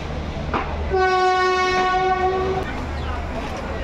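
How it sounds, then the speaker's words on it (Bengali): The Teesta Torsa Express train horn sounds one long, steady blast over the rumble of rolling carriages as it departs Sealdah station, loud and close. "আমাদের শিয়ালদা স্টেশন থেকে সবে ট্রেন ছাড়লো"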